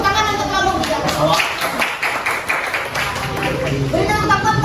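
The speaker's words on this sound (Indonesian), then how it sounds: "Tepuk tangan untuk kelompok 3." Classroom clapping for a student group after their presentation, mixed with children's voices and chatter, steady and moderately close throughout.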